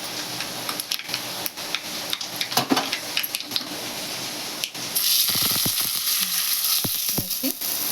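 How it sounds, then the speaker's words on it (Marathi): Mustard and cumin seeds hit hot oil for a chutney tempering and burst into a loud, steady crackling sizzle. Scattered pops break through it, after a few seconds of quieter kitchen clatter. "मोहरी टाकली तेल चांगलं तापलं की गॅस बंद करू"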